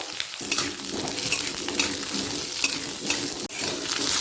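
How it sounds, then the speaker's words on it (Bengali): Steady crackling sizzle of potatoes frying in mustard oil, with occasional scrapes and clinks of a spoon stirring the pan. "দিয়ে দিলাম আলু আলুটা হালকা লাল হওয়া পর্যন্ত অপেক্ষা করব"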